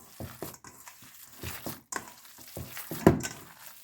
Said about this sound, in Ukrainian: І все гарненько вимішаю.